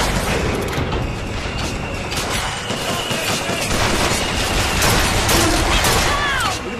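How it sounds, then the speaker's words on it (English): Enemy gunfire in the shooter game Bioshock Infinite crackles in dense, loud bursts like a fusillade of fireworks, continuous rapid shots layered over a busy combat din. "Look at this guy shooting freaking fireworks at me."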